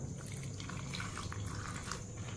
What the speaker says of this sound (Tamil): தண்ணி கொஞ்சம் ஊற்றிக்கிடுவோம்.